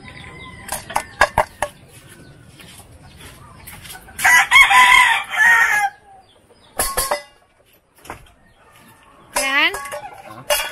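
A fighting rooster crows loudly and close by, with scattered clucks and sharp bird calls around it and a second crow near the end.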